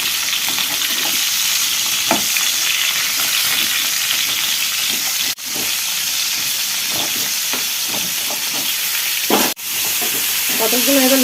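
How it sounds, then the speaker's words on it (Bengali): Pieces of pointed gourd (potol) sizzle loudly in hot oil for a Bengali sorshe potol dish, a dense close crackling hiss broken by occasional stirring scrapes and two brief dropouts. "পটলটাকে ভেজে নেব"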